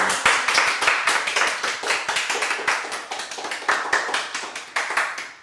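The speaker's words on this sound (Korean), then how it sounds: "우리 하나님께 감사와 찬양의 박수 올려드리며 예배하겠습니다" A church congregation claps together in praise after a closing prayer, a dense, fast, steady run of many hands close by, with no talking.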